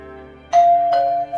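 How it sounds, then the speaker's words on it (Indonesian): A house doorbell rings with a clear two-tone chime, two struck notes sounding in quick succession over a low steady background hum, close and distinct. "bel rumah berbunyi"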